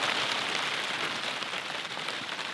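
Steady rain drums on a tent during a rifle elk hunt camp, a dense, even hiss of drops close overhead that fills the whole stretch with no voices.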